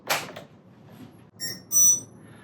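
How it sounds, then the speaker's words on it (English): A Model 7000 blower door fan power supply gives a couple of short, bright electronic beeps shortly after a brief click, close and clear with no talking. "Once you turn the power supply on, you'll hear a couple of beeps."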